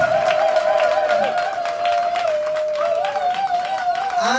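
Loud, steady applause from an audience at an outdoor event in a park in Kingakati, with a sustained tonal voice or music line running through the clapping for the whole stretch.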